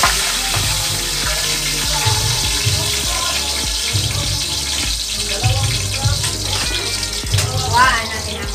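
Milkfish (bangus) fries in hot oil in a pan for adobong bangus, giving a loud, steady sizzle throughout with occasional stirring and clatter close by.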